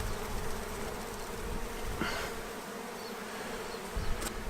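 Honey bees buzz as a dense, continuous drone around an open hive during beekeeping, near and steady with brief louder passes.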